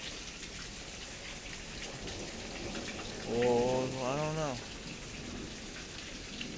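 Steady rain pours down during a thunderstorm in Tulsa, Oklahoma, a dense constant hiss of drops on surfaces with no clear thunder clap, while a person talks briefly in the middle.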